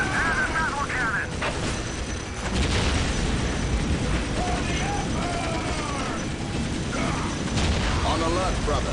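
A Leman Russ battle cannon fires amid a Dawn of War battle: heavy booms and bursts rise over dense mechanical clatter, with voices talking in the background.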